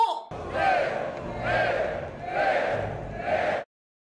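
A large arena crowd in the film Gladiator (2000) chants in unison, four loud rhythmic swells rising and falling in a steady cadence before cutting off abruptly near the end.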